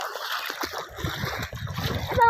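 River water rushes and splashes close by, a steady broadband wash with bursts of splatter, as someone wades into the river.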